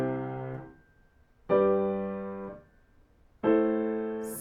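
Three separate piano chords played without the sustain pedal, each struck cleanly and then cut short, with gaps of near silence between them, giving a dry, detached sound.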